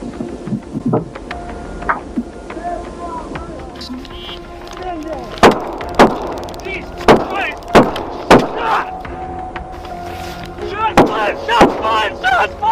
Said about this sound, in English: the driver's brother had pulled up behind the trooper's cruiser and began shooting at the officers